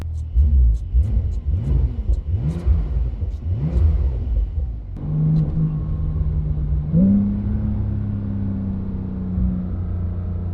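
A Brabus-tuned 820 hp Porsche 992 911 Turbo S engine revs repeatedly in rising and falling bursts, then drops to a deep steady idle rumble, loud and close with no talking.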